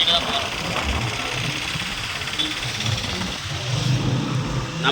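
A car engine hums steadily while the car is being driven, a constant mid-level drone with road noise underneath, and someone talks over it throughout.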